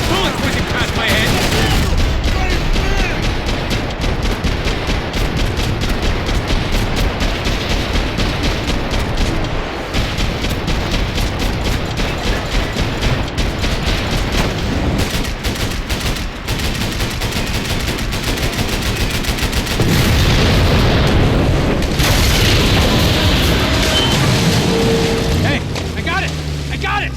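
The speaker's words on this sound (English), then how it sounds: "Bullets whizzing past my head!" Heavy gunfire and bullets whizzing in the shooter Max Payne 3 come as a dense, sustained barrage of shots, loud and close throughout, with bursts swelling near the end.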